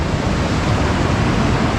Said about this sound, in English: So this is a weir.